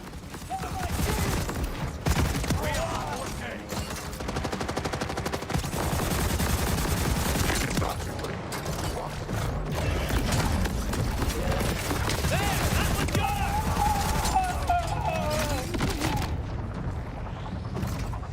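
Rapid automatic gunfire from a weapon in the looter-shooter video game Borderlands 4, a dense, continuous rattle of shots layered with booms and game sounds across the whole stretch, with voices talking over it.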